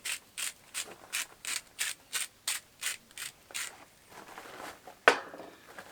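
Salt ground from a grinder onto baby back ribs, about a dozen evenly spaced ratcheting grinds, close and moderately loud, followed by softer rustling and a sharp knock.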